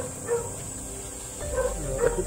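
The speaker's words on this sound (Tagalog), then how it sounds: "Hindi ganun magtahol yung aso pag walang tao." A dog barks a few times at a distance over a low background rumble, with short yips scattered across the moment and no voices.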